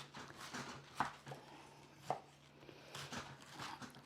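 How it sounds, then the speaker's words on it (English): A knife chops through cabbage on a board in a kitchen, a run of quiet, close, irregular cuts with two sharper thunks standing out. "So let's cut some cabbage like this"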